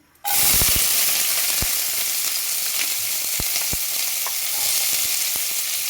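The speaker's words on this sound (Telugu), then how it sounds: "ఆయిల్ వీటెక్కిందండి ఇప్పుడు మనం ఉల్లిగడ్డ కోసుకున్నాం కదండి వేస్తున్నానండి" Chopped onions dropped into hot oil for a cauliflower and drumstick curry burst into a loud, steady sizzle, close up, with occasional spatters and clicks from stirring and no voices.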